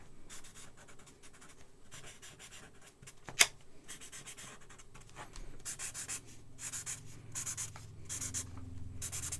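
Marker quickly coloring in a shoe drawing on paper, a soft, steady scratchy rubbing in repeated short strokes, quiet and close, with one sharp tap partway through.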